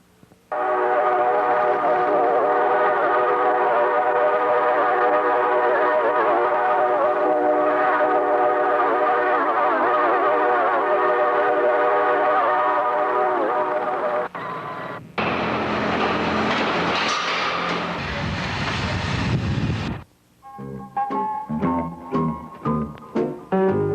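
A long, loud drawn-out train whistle with a steady harmonic tone, then a rumbling, clattering passage and rhythmic metallic clunks from a freight train hauling coal close by, recorded with Super 8 sound.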